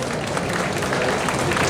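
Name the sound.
audience applause at cosplay contest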